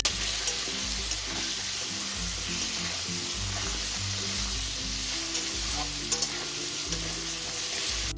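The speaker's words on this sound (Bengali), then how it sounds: "এক মিনিট মতো খুব সুন্দর করে ভেজে নিয়েছি আলুটাকে আর কুমড়োটাকে" Potato and pumpkin pieces frying in oil with turmeric and salt, a steady close sizzle with occasional stirring scrapes throughout.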